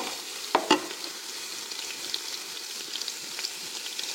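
Onion sautés in melted butter inside a heated Ninja Foodi Max pot, a soft steady sizzle with a couple of sharp clinks of a utensil near the start.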